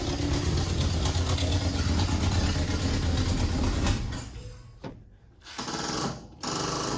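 A Ford F-100 truck's engine, started after sitting for years, runs with a loud, rough, continuous rumble up close for several seconds, then dies away into sputters and short bursts.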